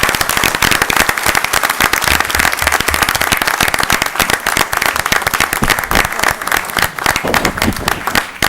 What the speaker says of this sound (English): You guys can applaud. It's okay.